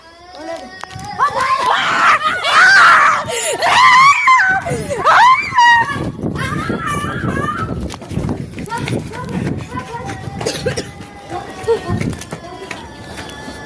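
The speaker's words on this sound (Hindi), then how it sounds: "ये चिल्ला रहा है, डर लग रहा है।" A person screams in fear in a village comedy sketch about a ghost, loud, strained cries rising in the first few seconds, followed by excited chatter and shouting from several people.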